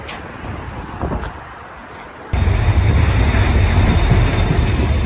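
A passenger train rumbles loudly nearby at a station in Romania. A quieter stretch gives way to a sudden, sustained roar of rolling cars, with no voices.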